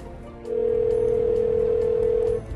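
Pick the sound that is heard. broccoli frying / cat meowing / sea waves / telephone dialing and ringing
telephone dialing and ringing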